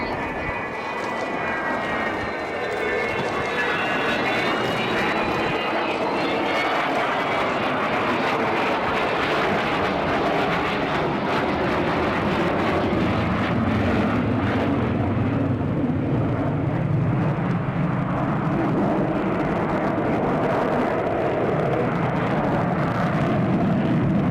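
Avro Vulcan XH558 jet bomber in a flying display, a loud continuous jet roar that shifts in pitch as it passes, with a narrator's voice faintly over it.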